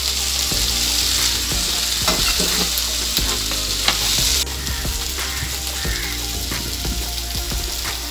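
Okra sautéing in a pan with tomato and asafoetida for a hotel-style sambar: a steady loud sizzle of frying throughout, broken by scraping stirs of a spoon against the pan, close and without talking.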